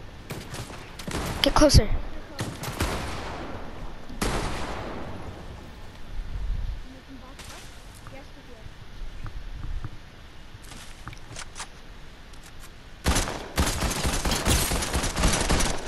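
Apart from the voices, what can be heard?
gunfire in Fortnite video game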